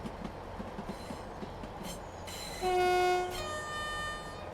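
Electric commuter train on the Styal Line toward Manchester Airport in Train Sim World 5, rumbling steadily with faint rail clicks before a loud, sustained horn blast sounds midway and fades into continued running noise.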